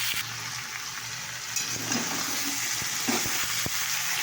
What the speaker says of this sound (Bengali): আর দেখো আদা, রসুন, পেঁয়াজ ভাজা।